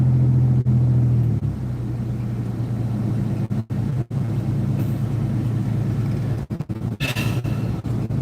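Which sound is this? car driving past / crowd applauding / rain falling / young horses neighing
car driving past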